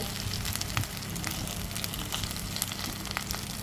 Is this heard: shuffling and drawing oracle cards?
no